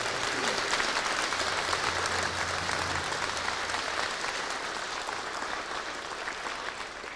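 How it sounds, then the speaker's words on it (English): An audience applauds a color guard at a National Native American Hall of Fame ceremony, full and sustained clapping that slowly tapers in loudness, with a low hum underneath. "how about a round of applause for this amazing color guard?"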